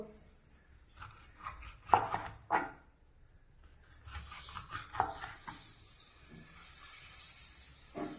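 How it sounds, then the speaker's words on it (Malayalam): A knife slices capsicum (bell pepper) on a board in a home kitchen, with a few distinct, close chops spaced irregularly and soft scraping between them, faint background hiss. "നമുക്ക് ഇങ്ങനെ അരിഞ്ഞെടുക്കാം"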